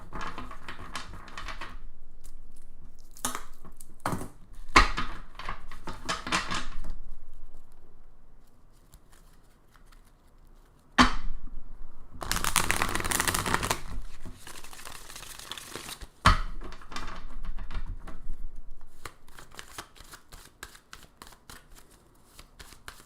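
Tarot cards are shuffled close up in repeated bursts of riffling and sliding, with short quiet gaps between them and a few louder rustling passages. No one speaks.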